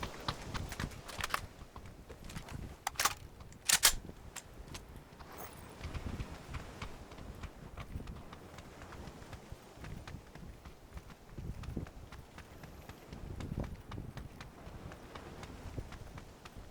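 Footsteps in the video game PUBG patter in a quick, uneven run of soft thuds at a low, distant-seeming level, with a few sharper clicks early on.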